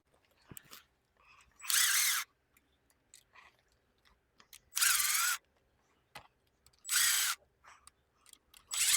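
The short shifter bolts on an AE86 are removed with a power ratchet in three loud buzzing bursts of about half a second each. Quiet clicks, taps and handling noises fill the gaps between them. The sound is close by and no one speaks.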